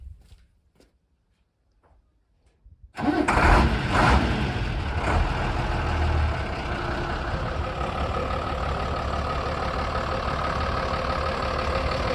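ZIL 4331 truck fitted with a Mercedes OM366LA diesel engine cranks and starts after near silence, then settles into a steady, loud, close idle with a deep rumble.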